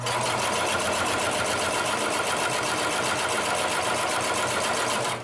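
A Consew 733R-5 extremely heavy-duty sewing machine stitches through folded leather and fabric with a fast, even mechanical chatter that runs loud and unbroken throughout, with no talking.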